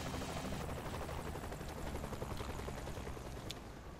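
A helicopter in the video game Saints Row The Third gives a steady, loud rotor thrum that fills the whole stretch without pause, with no talk over it.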